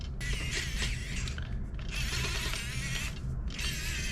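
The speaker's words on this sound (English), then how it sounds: "we're gonna reinstall the screws that hold it in" A small screwdriver drives screws back into the disc drive of a PS3 Fat CECHH01 console, giving close ratcheting, gritty mechanical turning in several bursts separated by short pauses.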